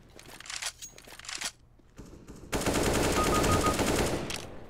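Automatic rifle fire in Counter-Strike: Global Offensive, with short bursts of shots followed by a long, loud, sustained spray of rapid gunfire in the second half.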